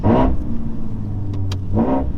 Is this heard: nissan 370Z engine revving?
yes